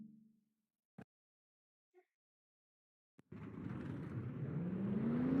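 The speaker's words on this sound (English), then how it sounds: "And the engines have fired up, and the cars are now rolling." In a racing video game, a race car engine fires up after a few clicks and quiet moments, then roars steadily and climbs in pitch as it revs, loud and close, with no talking.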